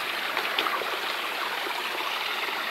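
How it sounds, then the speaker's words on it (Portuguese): A river stream flowing over its rocky bed off-trail on a mountain, a steady close rushing and trickling wash of water, continuous and even with no voices. "Tô subindo pelo leito do rio."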